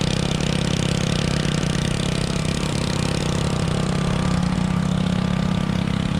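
Pressure washer pump engine running steadily while cleaning a small storefront sidewalk, a loud constant drone with a low hum and no change in pace.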